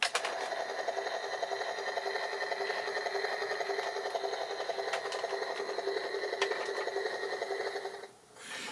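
A motorized G.I. Joe toy helicopter whirs with a steady, high-pitched electric motor whine, holding constant for several seconds before winding down near the end.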